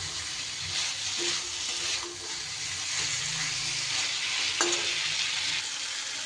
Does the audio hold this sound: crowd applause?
no